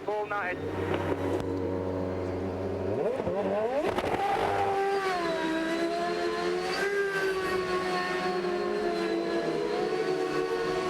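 Sebastian Bourdais's Champ Car, the race winner at the 2007 Toyota Grand Prix of Long Beach street race, spinning donuts: loud, close engine roaring in sweeping, rising and falling revs that hold steady for most of the stretch.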